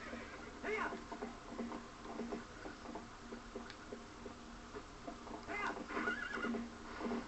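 Horse whinnies and clip-clopping hooves from the video game Zelda: Ocarina of Time, with faint neighs near the start and end and a steady hoof rhythm between, fairly quiet.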